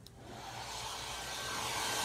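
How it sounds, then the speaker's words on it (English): A hair dryer running on its cool setting to fan wax on a furniture finish, a steady airy whoosh with a soft motor hum that builds slightly in loudness, alone and fairly faint. "I'm gonna put my hair dryer on cool."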